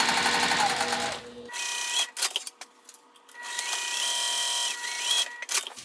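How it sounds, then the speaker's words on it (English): A domestic sewing machine stitching the top and bottom seams of a fabric travel pouch, running loud and close in whirring bursts with brief stops and restarts for back stitching, and no talk. "So I'm just going to sew these seams at the top and the bottom."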